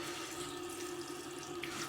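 Tap water running steadily into a sink while blanched lobster tails are rinsed, a soft, continuous splashing stream heard alone.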